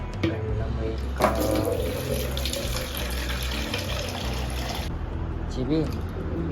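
Tap water runs steadily into a sink or bucket in a home bathroom for most of the clip, a continuous hiss that stops near the end, with background household noise and faint voices.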